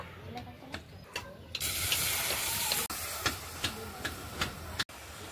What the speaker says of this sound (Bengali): এবার অল্প একটু জল দেব।